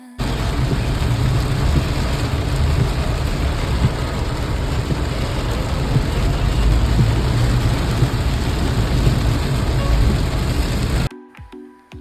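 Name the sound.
heavy rain pouring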